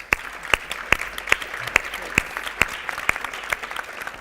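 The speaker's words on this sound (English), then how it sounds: "I'd like to offer a round of applause for this panel." A conference audience applauds a talent acquisition leadership panel, a steady round of clapping with sharp individual claps standing out, sustained throughout with no speech.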